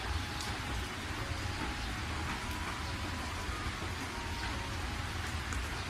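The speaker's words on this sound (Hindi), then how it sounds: "तभी रास्ते में जोरों की बरसात होने लगती है।" Heavy rain pours down in a dense, unbroken roar of drops with a low rumbling undertone, steady and enveloping throughout.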